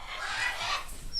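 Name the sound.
parrots squawking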